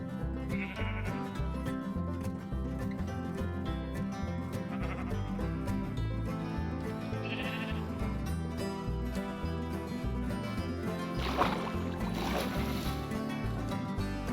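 Sheep bleating in Minecraft, several short bleats scattered over a steady background of game music, fairly faint, with no talking.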